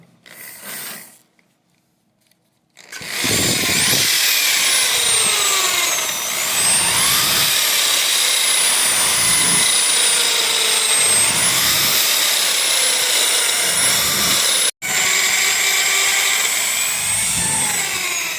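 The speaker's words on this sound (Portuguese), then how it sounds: "Então nós vamos utilizar uma broca de 4 mm." A power drill with a 4 mm bit bores holes through a woven basket base, running as a loud, continuous high whine for a long stretch with a brief cut-out, its pitch wavering under load.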